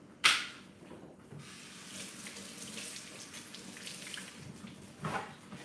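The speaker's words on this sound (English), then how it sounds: "Wash my hands." A kitchen tap runs steadily into the sink while hands are washed before cooking breakfast, with a sharp splash or knock at the start and another near the end, close and alone.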